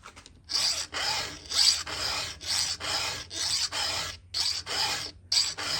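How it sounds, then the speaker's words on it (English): Steel file rasping across a chainsaw chain tooth to remove the burr, a close, loud run of rhythmic scraping strokes, roughly a dozen in quick succession with brief gaps between them. "Glide your file through."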